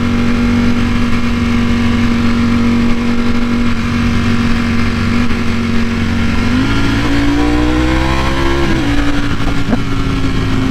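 A Ducati V4 motorcycle running loud and close, its steady engine drone shifting pitch as gears change without the clutch via the quickshifter, with stepped rises in tone toward the end and no talking.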